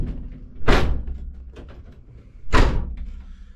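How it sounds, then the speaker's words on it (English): A work van's door closing twice: two loud, sharp slams about two seconds apart, each with a brief ringing decay, close by and with no talking. "Close the door."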